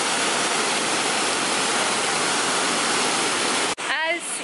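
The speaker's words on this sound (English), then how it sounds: "we just stopped at this cute little waterfall and got some pictures" A small waterfall rushes in a steady, loud broadband wash, close and continuous, before cutting off abruptly near the end to a brief quieter moment with a few faint chirpy sounds.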